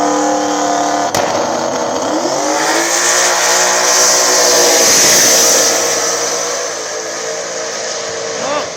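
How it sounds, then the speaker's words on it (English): A small-tire no-prep drag race car, a Coyote 3rd Gen Ford V8, roars down the strip on a bye run, the loud engine revving up through gears, then fading as it pulls away. "Brandon Watson coming up with the buy run in the Coyote 3rd Gen"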